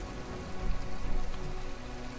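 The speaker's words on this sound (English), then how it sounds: "This rain is stuck here." Rain falls in From The Depths as a dense, steady hiss of drops pattering on surfaces, loud and continuous with a slight swell in the middle, no voices.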